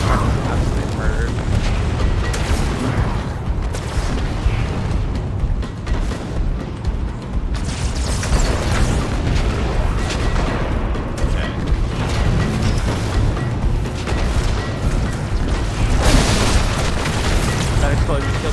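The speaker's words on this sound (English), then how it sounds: "That explosion killed me too." Explosions rumble through a Halo 2 firefight on the Oracle mission, with continuous deep booms and bursts under dense, loud game noise from start to finish.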